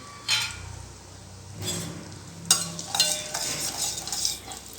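Cumin seeds crackling in a mix of oil and ghee in a kadai for beetroot pulao, with bursts of sizzling, spatter and stirring, plus a few metallic clinks against the pan.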